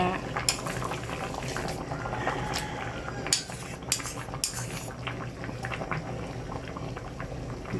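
A pot of curry broth bubbles at a steady boil, with occasional metallic clinks of utensils against cookware.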